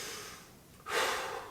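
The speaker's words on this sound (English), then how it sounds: "Check your feet, take a deep breath." A deep breath taken during a home legs-and-shoulders workout, a quiet inhale followed by a louder, close breathy exhale that swells and then slowly fades, heard alone.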